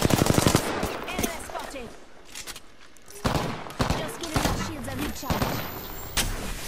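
Rapid bursts of video game gunfire crackle through a Battle Royale-style firefight, with dense automatic volleys at the start, a brief lull, then sharp shots and bursts returning near and loud.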